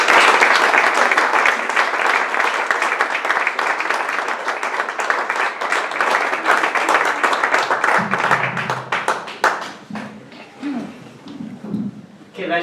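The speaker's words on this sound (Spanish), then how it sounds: "Pido un fuerte aplauso para Gregorio Laborda" Audience at a poetry book presentation applauds poet Gregorio Laborda, a strong round of clapping for about nine seconds that thins out into scattered claps as a voice begins talking.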